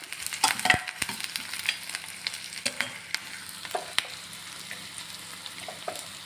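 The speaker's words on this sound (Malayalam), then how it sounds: "നമുക്കപ്പോൾ പച്ചമുളകും കറിവേപ്പില ഇടാം. ഇതും ചേർത്തൊന്ന് വഴറ്റാം." Onion, green chilli and curry leaves sauté in a pan for okra thoran, a steady sizzle broken by sharp scrapes and taps of a spoon stirring, close and moderately loud with no talk.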